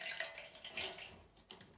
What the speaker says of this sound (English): And you'll see the water start coming out.